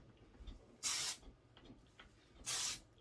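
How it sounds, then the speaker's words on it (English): Two short bright hisses of hairspray sprayed onto hair, each about a third of a second and well apart, close and crisp against a quiet room. "It has a really great spray."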